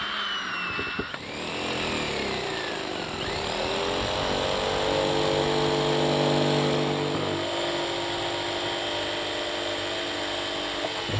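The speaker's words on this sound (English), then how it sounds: "just have to drill a pilot hole big enough for the skill saw or the jigsaw blade" A power drill whines steadily for several seconds, its pitch sliding as it bores a pilot hole into a rain barrel lid, loud and close with no talking.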